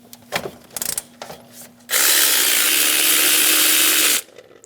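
Quick ratcheting on a bolt of a Chevrolet Express 2500 accessory drive belt tensioner, a few short clicking bursts, then a loud steady broadband whir for about two seconds before cutting off to brief clicks again.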